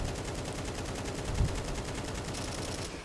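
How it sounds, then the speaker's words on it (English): Rapid automatic gunfire from the Counter-Strike 2 video game sprays in one continuous burst until the magazine runs dry, loud and dense with no talk over it. "now if I fire my gun, my bullets will run out"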